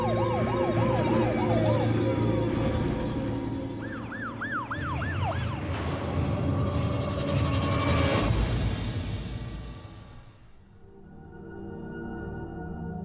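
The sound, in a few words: ambulance siren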